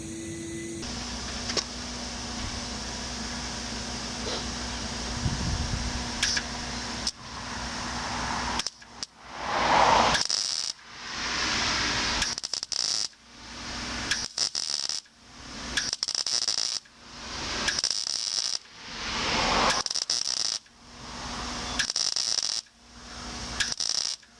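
A MIG welder works on a cast iron gear case from a 1955 Wheel Horse RJ35, a steady crackling hum followed by a series of short, repeated welding bursts with brief gaps between them.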